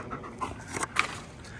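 Dog panting nearby in short, quick, breathy bursts, fairly quiet and alone with no talk.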